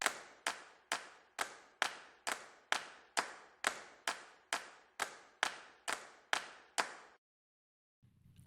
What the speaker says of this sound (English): Also in my drums, I included those claps